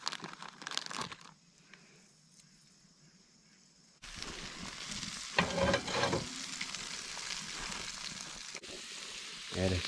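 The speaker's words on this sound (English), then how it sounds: "Today I'm cooking up some leftover turkey that I have." Leftover turkey frying in oil in a pan at a campsite, for flour tortilla tacos: a brief crinkle, a quiet lull, then a steady close sizzle with bursts of stirring and scraping.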